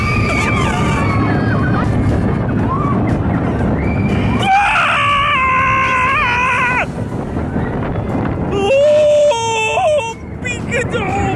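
Riders on a roller coaster at an amusement park shriek and scream loudly over the roar of the ride, with shrill high-pitched cries coming in bursts along with rushing wind noise and talking.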